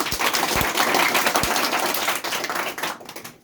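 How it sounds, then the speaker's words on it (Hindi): An audience at a self-development session claps for themselves in a dense, steady burst that stays loud for several seconds before thinning slightly toward the end, with no talking. "तो अपने लिए ताली बजाइए।"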